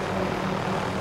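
Helicopter in Call of Duty: Modern Warfare, a brief burst of steady, loud rotor and engine rumble with no voices over it.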